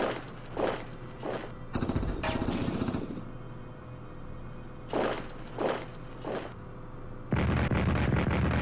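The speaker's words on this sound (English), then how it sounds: "Rocket artillery on Vitebsk." Rocket artillery strikes on Vitebsk in the WWII strategy game Strategic Command: repeated short booming bursts in two groups, a sustained rumbling barrage in between, and a louder continuous roar at the end, with no voices.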